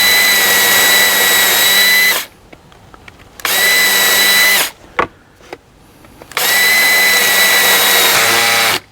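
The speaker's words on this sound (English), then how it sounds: "This is a 5mm twist drill. And we're just gonna go straight in there and re-drill it." A 5mm twist drill re-bores dowel holes in an IKEA PAX wardrobe panel, whining loudly in three sustained bursts separated by short pauses filled with faint knocks and handling noise.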